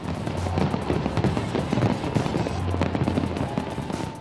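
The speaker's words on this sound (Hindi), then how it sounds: "आतिशबाजी ने ऐसा समा बांधा कि हजारों लोग एकटक सिर्फ आसमान की तरफ ही देखते रहे" New Year fireworks crackle and pop over Rio de Janeiro, a dense, continuous barrage of bursts heard from a distance with crowd noise beneath.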